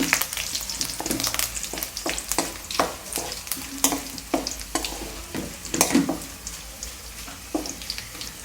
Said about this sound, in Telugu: ఇది ఫ్రై అయింది. కరేపాకు వేయాలి.